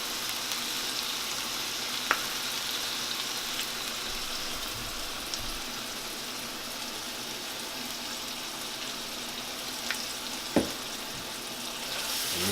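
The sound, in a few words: ground turkey frying in a pan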